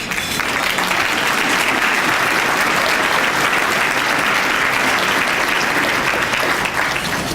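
An audience at a formal annual dinner gives loud, sustained applause for a former Florida Supreme Court justice, a dense steady roar of clapping lasting over seven seconds.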